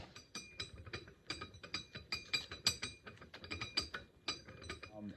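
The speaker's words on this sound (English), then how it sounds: "I'm just going to tip that up while I put pressure on that washer and just spin it around for a few minutes" A steel washer is spun under pressure on 400 grit aluminum oxide sandpaper wetted with mineral spirits while restoring a Columbian 504 vise, making a quiet irregular series of gritty scrapes and clicks close by.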